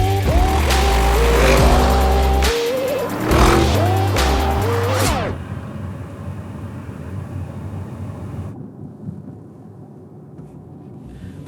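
An Audi RS7 with a V8 engine, running on a nearly empty tank, revs loudly close by with rising gear pulls for about five seconds, then the engine note fades to a low, muffled cabin rumble.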